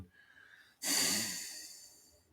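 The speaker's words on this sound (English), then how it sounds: "Breathe all the way in." Breathwork exercise with a single deep breath, a quiet lead-in followed by a loud, airy rush that slowly fades, close to the listener with no talking.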